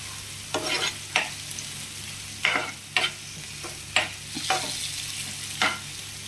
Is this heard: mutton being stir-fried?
yes